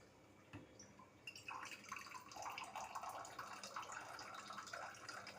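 Water from an RO purifier tap runs into a tumbler, a steady close trickle and splash with some dripping, heard alone with no talking.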